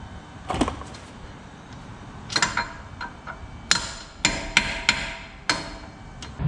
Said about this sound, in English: I've used a big socket as well that's a little bit smaller than the bearing, and then just tap it in there.